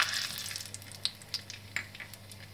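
Black pepper, two cardamom pods and cinnamon pieces drop into hot oil with toasted cumin for methi pulao, setting off a steady close sizzle with a few crackling pops over a low hum.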